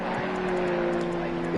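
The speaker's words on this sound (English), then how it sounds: "You can hear the GT2 cars out on track." GT2 race cars circle the Valencia circuit during a multi-class race, their engines a steady sustained drone at moderate distance with a slight rise near the end and no other sound over it.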